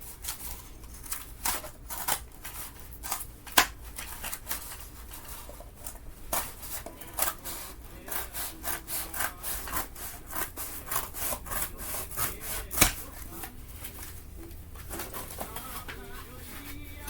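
Cardboard is cut by hand in steady, rhythmic rasping strokes, close and fairly quiet, while birds call faintly in the background.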